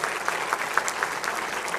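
A church congregation at Iglesia Bíblica Torre Fuerte claps during a Sunday service, a brief burst of dense, even applause from many hands.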